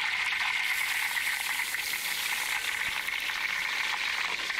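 Garlic fries in a pan with a steady, even sizzling hiss that stays constant throughout, close and moderately quiet, with no voices.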